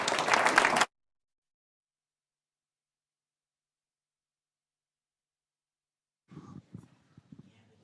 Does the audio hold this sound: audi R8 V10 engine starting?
no